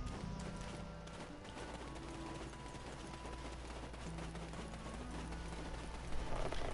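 Horse hooves trotting in the Black Desert Online video game, a quick steady clip-clop rhythm that runs throughout, faint against a busy background of game sound.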